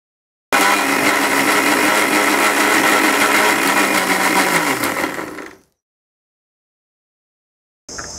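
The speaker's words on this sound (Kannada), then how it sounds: "ಸೊ ಈ ಮೂರನ್ನು ಹಾಕಿ ನಾನು ಜ್ಯೂಸ್ನ ರೀತಿ ಮಿಕ್ಸಿ ಮಾಡ್ಕೊಳ್ತಾ ಇದ್ದೀನಿ" A mixer grinder blends tender coconut with jaggery into juice: a loud, steady, close-up motor whir with rattling runs for about five seconds, then winds down and stops. A brief burst follows near the end.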